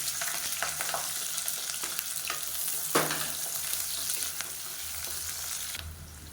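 Sliced onions fry with curry leaves and spices in hot oil for a kurma, a steady sizzling hiss running throughout with a few stirring scrapes, close up and alone.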